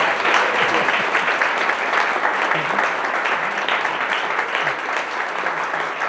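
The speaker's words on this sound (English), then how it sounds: "Or maybe a round of applause." An audience at an author talk gives a round of applause, a loud steady wash of many hands clapping close by that holds evenly throughout, with no talking over it.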